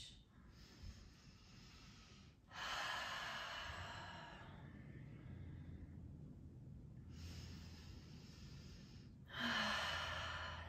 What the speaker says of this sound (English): breathing nice and deep here